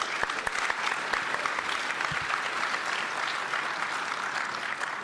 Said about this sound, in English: A round of applause for our schmoozers.